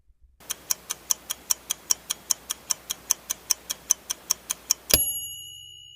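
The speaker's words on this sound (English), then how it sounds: "I'll set the timer and give you 5 seconds to think it over." A countdown timer ticks evenly, about four ticks per second for several seconds, crisp and close, then ends with a louder ringing chime that fades.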